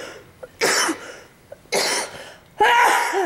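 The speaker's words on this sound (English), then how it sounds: "There's something in that cleaner you've got that makes me cough." Three loud, harsh coughs close by, spaced about a second apart, with quiet gaps between them.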